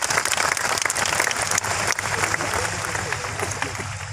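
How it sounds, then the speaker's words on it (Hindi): An audience at a Glaze Trading India company gathering breaks into sustained, dense applause that stays loud and even for about four seconds, with no voices over it. "एक बार उनके लिए जोरदार ताली होनी चाहिए।"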